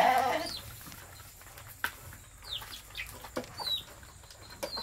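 Chickens on a small farmyard where goats are also kept, with scattered faint clucks and short chirpy calls over a quiet rural background, no talk.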